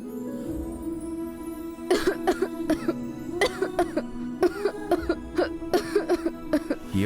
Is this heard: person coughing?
yes